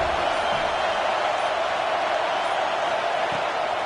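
Home crowd noise in a football video game, a dense, steady roar of a stadium crowd on third down, loud and continuous throughout.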